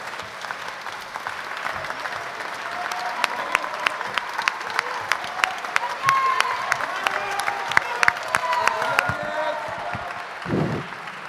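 An audience applauds steadily after a choir performance, sharp claps spreading through a hall, with murmuring voices underneath before the clapping fades.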